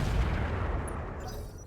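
Weapons fire on a turret in RogueTech, a heavy booming volley of overlapping shots and impacts forming a thick, loud rumble that slowly tapers over a couple of seconds.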